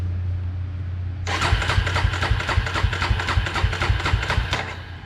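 An engine that has sat for a week, held in neutral, cranks and catches after a quiet hum, then settles into a loud, close, rapid, uneven idle before cutting off near the end, with no talking.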